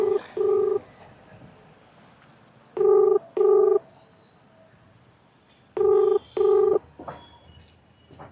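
A telephone number being dialed, heard as three pairs of short, clean keypad tones separated by pauses, each pair quick and evenly spaced, loud and close over a quiet room.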